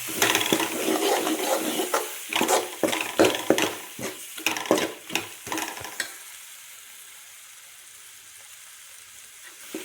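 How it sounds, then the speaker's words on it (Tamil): Fish curry masala, ground spices and all, is stirred in a pan with sizzling and scraping bursts for about six seconds, then the sound drops to a quiet simmer. "அப்படி ஒரு பெரட்டு, இப்படி ஒரு பெரட்டு."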